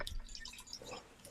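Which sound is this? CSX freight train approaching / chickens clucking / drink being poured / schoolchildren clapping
drink being poured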